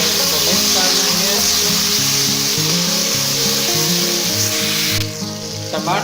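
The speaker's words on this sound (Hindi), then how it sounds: "अभी मैं इसके अंदर ऐड कर दूंगा ये टमाटर, ये जो मैंने काट के रखे थे ये ऐड कर दूंगा, और इसको मिक्स कर देंगे।" Chopped tomatoes hit hot fried onions in a pan for a salted beef and peas curry, setting off a loud, continuous close sizzle, with scraping stirring strokes running through it.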